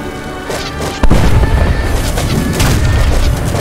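Mortars in Age of Empires III fire and explode, a loud sharp crash and boom about a second in followed by a dense stretch of rumbling blasts and impacts, close and heavy.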